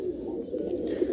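Pigeons coo steadily and close by in a low, continuous burble lasting about a second, with no voices.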